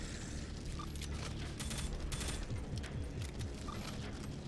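Distant rattling enemy gunfire in the game Prodeus, a continuous clattering mechanical burst under busy game noise, fairly steady throughout with no voices.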